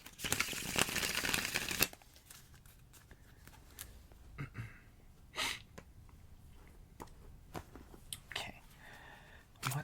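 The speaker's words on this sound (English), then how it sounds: "One more riffle shuffle." A riffle shuffle of a tarot card deck makes a dense, loud, close burst of riffling and snapping for about two seconds, followed by quiet rustles, soft handling sounds and faint breathy voice.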